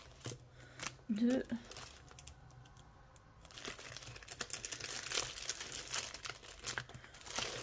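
Paper envelopes rustle and crinkle close by as they are handled and slipped inside, with a louder burst of crumpling in the second half, while someone speaks quietly between the handling.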